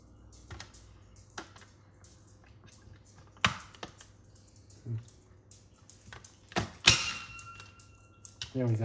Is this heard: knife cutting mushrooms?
yes